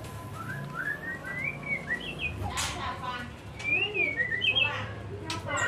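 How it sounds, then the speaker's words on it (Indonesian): A white-rumped shama (murai batu) sings a series of bright, rising and falling whistled phrases at moderate volume, separated by short pauses, with a couple of sharp clicks and some faint background murmur. "Ini jarang-jarang loh di video burung mau bunyi loh"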